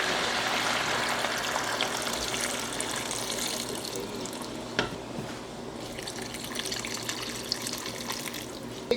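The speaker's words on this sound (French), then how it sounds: "Là, on rajoute de l'eau." Water pours steadily into a cooking pot, a continuous close splashing and gurgling stream that runs for several seconds with no talk over it.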